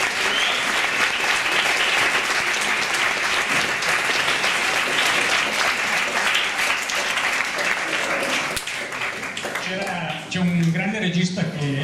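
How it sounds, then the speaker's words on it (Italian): Audience applause after a personal testimony talk, dense sustained clapping from a large crowd filling most of the span, thinning near the end as a voice begins speaking. "Facciamo un altro applauso."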